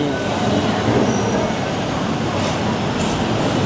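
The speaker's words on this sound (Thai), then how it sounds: "รถไฟหลายชั้น" A multi-level train rumbles past close by near a station in Thailand, a continuous heavy rolling noise with a faint high metallic squeal near the end.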